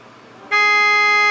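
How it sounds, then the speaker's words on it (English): A car horn sound effect from a music-making app blares as one sudden, loud, steady blast that holds without a break after a quiet start. "Yeah, car doors closing, car horns."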